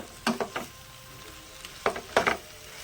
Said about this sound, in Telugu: ఒకసారి గంటతో కలిదిప్పుకున్నా.